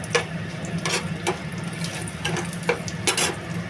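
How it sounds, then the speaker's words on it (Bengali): Cumin seeds and bay leaves crackle in hot oil left over from frying prawns for a prawn curry, a steady close sizzle with scattered sharp pops and no talking. "এবার তেলে দিলাম একটুখানি জিরে আর তেজপাতা"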